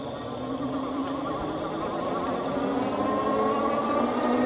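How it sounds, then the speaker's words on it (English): Rear hub motor of a Bandit X-Trail Lite electric bike accelerating on throttle alone up an incline, a steady whirring whine that climbs slightly in pitch under road and wind noise. "The motor is a little bit noisy at the start, but it does level off"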